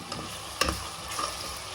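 Dal tadka frying in hot oil in a pan, a short steady sizzle with a single sharp stir or utensil knock near the middle, heard alone without voices.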